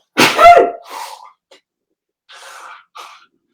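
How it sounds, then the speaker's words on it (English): A single loud, close sneeze bursts out sharply, followed by quieter breathy exhalations and soft sounds in an otherwise quiet room. "oh, I'm going to have to sneeze."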